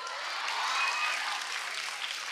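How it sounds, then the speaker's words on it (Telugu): A college audience at a women's college claps in loud, dense applause that holds steady throughout the short stretch. "కూడా క్లాప్స్ కొడుతున్నారు"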